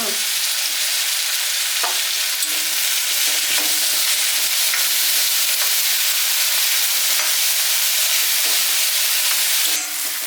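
Makhana and green pea curry being stirred in a hot oily pan, a loud, steady sizzling hiss with intermittent scraping and clatter of a spoon against the pan throughout, no speech.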